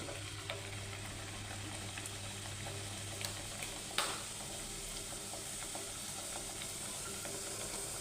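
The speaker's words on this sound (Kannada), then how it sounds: "ಎಣ್ಣೆ ಕೂಡ ಬಿಸಿಯಾಗಿದೆ ಒಂದೊಂದು ಕರೆದು ತಗೊಳ್ಳುವ" Talipaddu, a flat rice-flour flatbread, fries in hot oil with a dense, continuous crackle and sizzle, broken by a few sharp spatters and faint clinks, and no voices.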